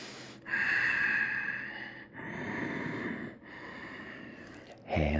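Slow, audible breaths during a yoga class in a full crescent lunge, three long airy inhales and exhales in a steady rhythm, close and fairly loud, with a short louder burst at the very end.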